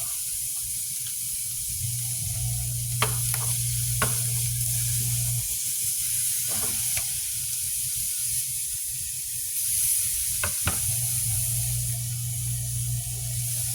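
Shrimp sizzle steadily in a hot pan, a continuous close hiss of frying with a few faint ticks and pops scattered through it, with no voices.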